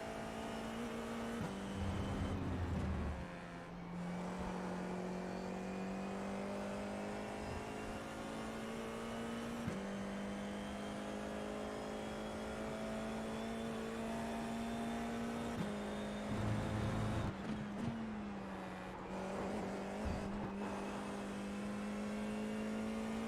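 Race car engines in a sim racing game at Donington (IR-04) hold a loud, steady drone that rises and falls through gear changes, with a few brief downshift blips and surges from nearby cars.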